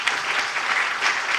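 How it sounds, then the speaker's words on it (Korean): Church congregation applauding during a mission sermon, a full, continuous burst of many hands clapping, close and lively, swelling slightly toward the end. "주님께 영광의 박수 드리겠습니다."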